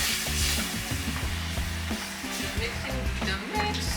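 Chicken-pork adobo with sugar stirred in a pan over heat, a close sizzle with scraping stir strokes and clinks, a voice briefly heard under it.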